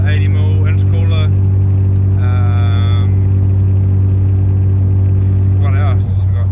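A Mazda RX2 with a 4-inch full exhaust, Adrenaline race baffled muffler and resonator, 1A IGN smart coil kit and 80mm intercooler runs at a steady idle, its low rotary hum strong and constant while someone talks over it.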